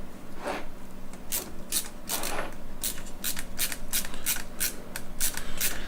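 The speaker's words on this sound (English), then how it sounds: "Put the screwdriver in reverse" A power screwdriver running in reverse to back screws out of a 3D-printed GameCube shell, a series of short whirring bursts with brief pauses between, close and fairly quiet, and no voices.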